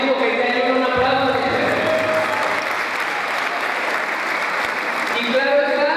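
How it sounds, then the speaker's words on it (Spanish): A crowd at a cultural evening applauds loudly and steadily for Nicaragua, with sustained close clapping while a voice carries on speaking over the noise. "les damos un fuerte aplauso también a Nicaragua"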